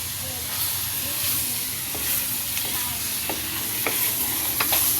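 Fish fries in hot oil with a steady, bright sizzle and soft hiss, with a few faint clinks as it is stirred, close and fairly quiet.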